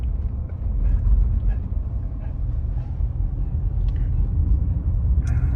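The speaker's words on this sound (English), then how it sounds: "We're just driving around." Car interior during a winter drive around Mammoth, a steady, fairly loud low engine and road rumble with faint rattles on top and no talk.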